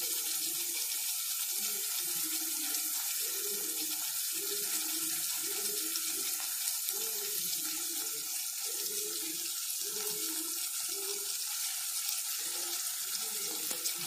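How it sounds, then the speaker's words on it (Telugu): Water poured into a cooking pan while making semiya upma, a steady running splash heard close and alone for the whole stretch, with a faint repeating clatter underneath. "ఇవన్నీ ఉడికిన తర్వాత మనం వాటర్ పోసుకుందాము ఫ్రెండ్స్"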